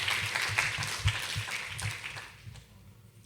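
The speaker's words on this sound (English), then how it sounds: "just another round of applause for all our presenters today" Audience applause after a symposium presentation on children's media use, a steady wash of clapping that fades toward the end, with a few sharper individual claps standing out.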